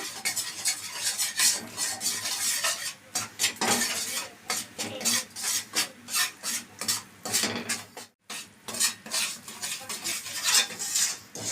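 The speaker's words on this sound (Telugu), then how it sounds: "చూడండి ఇట్లా బాగా వేయించుకోవాలి మనం నెయ్యి వేస్తూ జొన్నపిండి" Sorghum flour roasts in ghee while a metal spoon stirs and scrapes rhythmically against the pan, a busy run of scraping strokes and clinks with a brief pause partway through.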